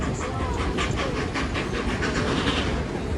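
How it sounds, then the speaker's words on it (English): Steam locomotive NKP 756 chuffs in quick, rapid bursts, its wheels slipping, with hissing steam and rail clatter, loud and close throughout. "I just heard it go with a wheel slip"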